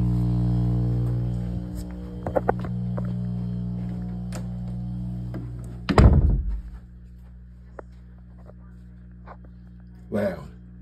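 A loud air pump feeding air lines to several aquarium tanks drones with a steady, harmonic hum throughout, broken by a heavy thud near the middle and another dull knock toward the end.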